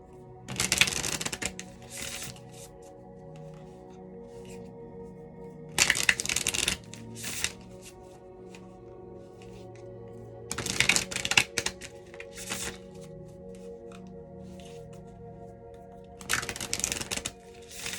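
Tarot cards riffled and shuffled by hand in several separate bursts, each a couple of seconds long, with quiet pauses between, close and fairly soft.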